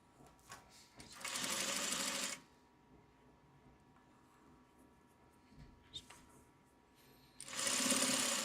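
A sewing machine stitching black binding with black thread runs in two loud whirring bursts of a second or so each, with quieter clicks and handling noise in between.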